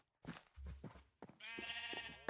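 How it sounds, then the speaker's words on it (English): Sheep bleats in the Minecraft video game, a few short game-style calls sounding close and clear, with a sustained tonal bleat in the second half. "Let's shear the sheep."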